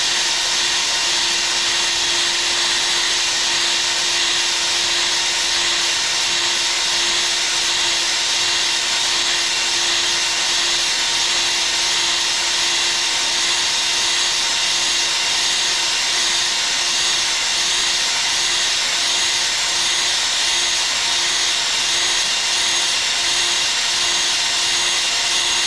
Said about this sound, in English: Start giving it some good cross hatch while I'm doing this.